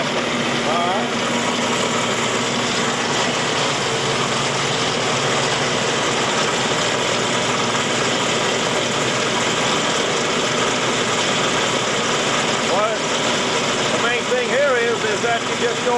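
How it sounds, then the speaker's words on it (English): A motor-driven continuous pea sheller runs steadily, a loud, even mechanical drone and rattle that holds throughout without pause. "this is a very simple system, a motor running, the layer taken away"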